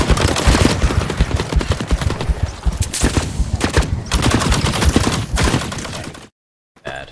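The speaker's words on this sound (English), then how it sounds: "Oh shit, shots at me." Rapid automatic gunfire in the shooter game The Cycle: Frontier, dense bursts of close, loud shots with short gaps, ending in sudden silence before a faint tail.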